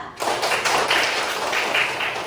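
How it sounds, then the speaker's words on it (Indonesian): Pupils in a primary school classroom clap together for a classmate, a loud, close burst of rapid hand claps sustained for a couple of seconds. "Kasih tepuk tangan buat Alika."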